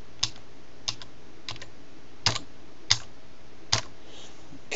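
A password is typed on a computer keyboard in a sparse run of about seven separate, crisp key clicks, close up and quiet, with no talking.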